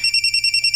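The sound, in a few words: phone ringing with an incoming call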